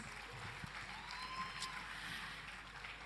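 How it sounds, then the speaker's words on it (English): An audience at a school annual day applauds, a steady wash of clapping from many hands that holds evenly throughout at moderate loudness. "Let's give them a huge round of applause."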